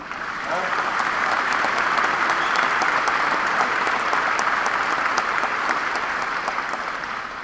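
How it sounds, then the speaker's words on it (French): Sustained applause from a large crowd at a college graduation ceremony, steady and dense clapping that swells in quickly and holds for several seconds before easing slightly. "je pense qu'on peut applaudir notre personnel"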